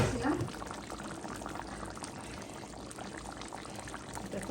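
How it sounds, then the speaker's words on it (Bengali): Prawns fry in a pan for a Bengali home-cooked dish, giving a steady, close, dense sizzle that carries on evenly without pause. "চিংড়ি মাছটা ভেজে রাখছিলাম"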